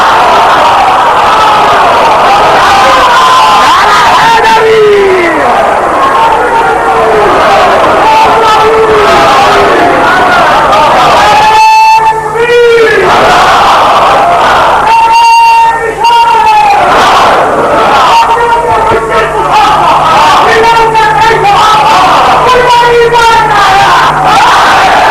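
A large gathering at a Shia majlis in Rawalpindi raises loud, rhythmic religious slogans in unison, voices swelling and dropping in repeated waves of crowd chanting with brief pauses.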